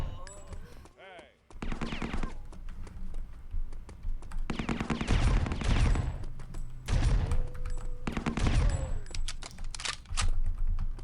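Shotgun fire in the video game Nina: Agent Chronicles, a series of loud, closely spaced blasts and bursts that come and go in clusters, with a voice heard briefly at the start.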